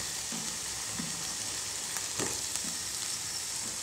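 Raw plantain pieces hit hot oil in a pan with softened onion and curry leaves, a steady close sizzle of frying with a few soft stirring scrapes and no talk.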